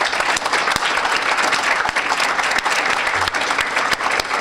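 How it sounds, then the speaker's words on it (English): Applause from the audience at a Saint Paul police commission meeting as new department members stand, a thick, continuous roar of clapping that fills the room, loud and close throughout. "Let's give them a round of applause."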